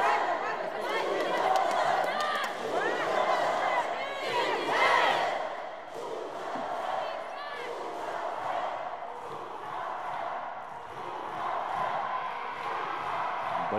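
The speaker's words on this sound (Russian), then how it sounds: "Болельщики усалданской команды." Volleyball crowd at a women's final, fans of the Usalda team loudly cheering and chanting for their side during a timeout, a dense sustained roar with rising bursts of shouts throughout.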